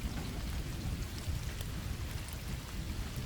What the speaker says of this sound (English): The rain lashed the windows with an almost musical intensity, a constant pattering that filled my house